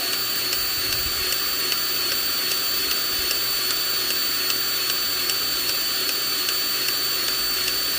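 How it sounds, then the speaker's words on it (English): Milwaukee cordless grease gun running on a Freightliner Classic truck, a steady close motor whine with a broad hiss that holds evenly throughout, no talking. "This thing ain't pumping grease like it should."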